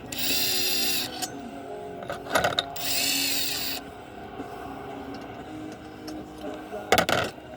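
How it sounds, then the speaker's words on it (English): An impact drill works during a Briggs engine teardown, firing several short, loud mechanical bursts of whirring and rattling with quieter shop noise between them. "impact drills make it so much easier"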